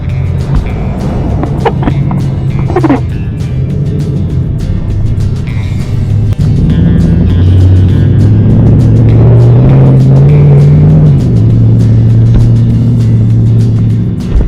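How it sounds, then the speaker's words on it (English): A Chevrolet Suburban drives on the road after a front-end rebuild with new KYB shocks, its engine hum loud and steady from inside the cab, the pitch rising and falling with speed, and no talk. "crank it up, drive it around, and see what it does"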